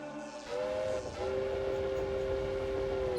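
A train horn in the Type:Rider video game sounds in sustained tonal blasts, first a short two-note burst and then a long steady blast over rumbling rail noise, loud and close.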